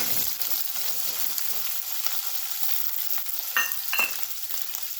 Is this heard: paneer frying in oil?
yes